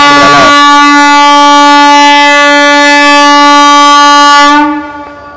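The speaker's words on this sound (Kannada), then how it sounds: "ಟ್ರೈನು" A loud, sustained train horn blares for several seconds, very close, then cuts off abruptly, leaving a fading tail.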